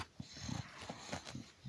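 A dog makes soft whimpering, snuffling sounds while being rubbed and pawing for more, with several short, muffled bursts close by against a low background hiss.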